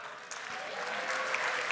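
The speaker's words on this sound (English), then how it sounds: "let's give her a round of applause" Audience applause as a volunteer named Amy comes up on stage at a talk, a brief, even wash of clapping from a crowd at moderate distance.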